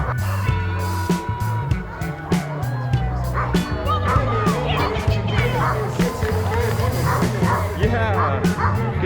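A small dog yips and barks repeatedly amid street noise and people talking, with some whimpering between the barks.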